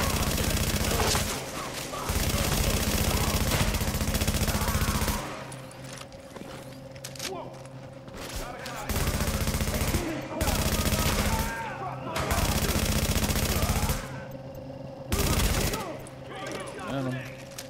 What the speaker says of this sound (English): Who's shooting me like that?